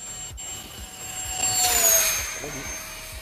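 An E-flite HABU Super Sport 70mm 6s ducted-fan RC jet whines on its landing approach, the high-pitched turbine-like note swelling loudly as it sweeps close, then bending down in pitch and easing off.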